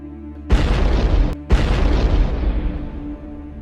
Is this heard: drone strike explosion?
yes